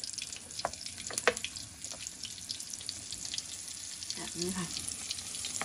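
Crab pieces frying in hot oil three at a time for Thai fried garlic crab, a steady crackling hiss with faint pops, briefly under a voice.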